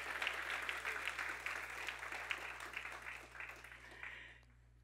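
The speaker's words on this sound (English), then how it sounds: "Yeah, you can clap for that." A church congregation claps steadily for several seconds at moderate distance, a dense even patter with a low steady hum underneath, tapering off at the end.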